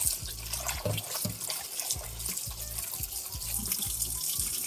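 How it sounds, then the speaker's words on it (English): Cold tap water runs steadily into a bowl of raw chicken, a close, continuous splashing stream with a rhythmic gurgle as the water hits the meat and pools, with no voices. "Now we're just going to go in with some cold water."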